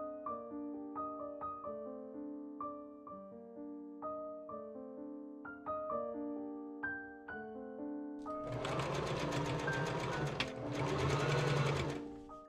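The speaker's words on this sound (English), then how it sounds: "I pin and machine sew the inner sleeve lining seams." Sewing machine stitching the inner sleeve lining seams of an 1890s Victorian ballgown bodice, running in short tonal bursts, then in two longer, louder continuous runs near the end.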